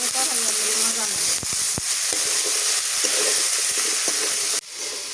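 A village-style curry of desi chicken, field pumpkin, local eggplant and potato sizzles loudly in a pan while being stirred, with scraping strokes over a steady hiss. Faint voices are heard underneath.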